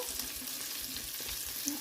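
A thick gravy with cinnamon, cardamom and a clove fries in a pan with a dense, even sizzle and faint bubbling pops, close up and continuous.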